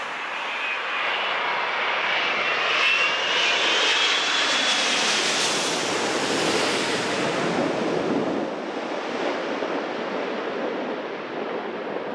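Emirates Airbus A380 arriving at Glasgow Airport, a loud, sustained jet engine roar that swells as the aircraft passes close by and then slowly fades, with no voices.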